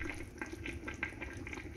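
Pears and bacon simmer in a covered pot of water, bubbling and popping steadily at close range with no voices.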